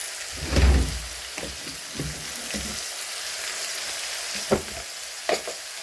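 Food fries in a pan with oil and chili powder, a soft continuous sizzle broken by stirring scrapes and a few louder knocks.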